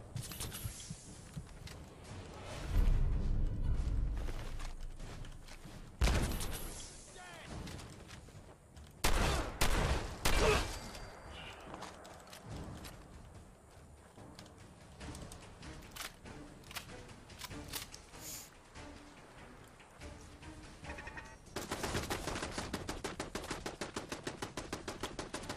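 Bursts of gunfire from the video game Fallout 4 crackle in rapid volleys and single shots, loud at times and broken by quieter stretches, with steady automatic fire near the end.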